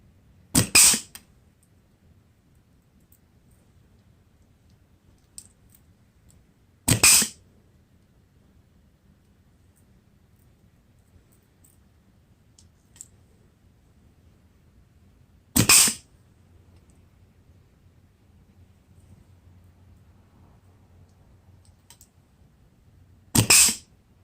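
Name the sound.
pneumatic stud gun inserting studs into tire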